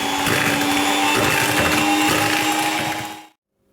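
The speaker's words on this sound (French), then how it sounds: "je vais fouetter à peu près 1 minute pour bien blanchir le mélange" A steady, continuous mechanical whir of an electric whisk beating brown sugar for a carrot cake batter, loud and close, holding constant for about three seconds before cutting off abruptly into silence.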